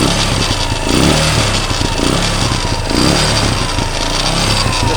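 Honda FTR 230 single-cylinder motorcycle engine fitted in a CTX200 frame, revving steadily with a couple of throttle blips, loud and close, alone without talk.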